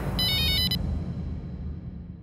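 A mobile phone ringtone chirps in a short burst of bright, repeating electronic tones, then cuts off, leaving a low room rumble.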